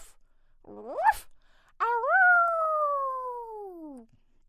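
A voice imitates a dog, giving a short rising bark-like yelp and then a long sustained howl that slowly falls in pitch, close and clear with no other sounds around it.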